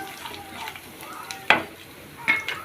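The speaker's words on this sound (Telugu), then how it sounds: "ఉల్లిపాయలు పచ్చిమిర్చి ఈ పప్పులు ఇవన్నీ కూడా చక్కగా వేగుకొని" Onions, green chillies and dals frying in a pan for semiya upma give a soft steady sizzle, broken by a few sharp stirring scrapes and metallic clinks close by.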